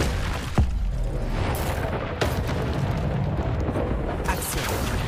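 Repeated fiery blasts from the Confringo spell in Hogwarts Legacy, a few sharp bursts over a continuous rumbling roar, loud and close.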